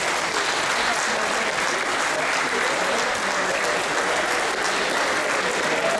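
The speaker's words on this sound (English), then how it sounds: "Well done to the lads. A round of applause." An audience at an end-of-season football club awards presentation gives a long, steady round of applause, dense and loud from start to finish, with faint voices mixed underneath.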